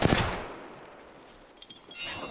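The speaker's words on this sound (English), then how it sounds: "They're shooting at me." Enemy gunfire in a video game: a sharp burst at the start decays into a quiet hiss, followed by a few fainter, scattered shots further off.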